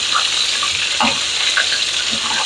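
Chicken fried steaks frying in hot oil in a pan, a steady continuous sizzle and crackle close by with scattered small pops, no voices.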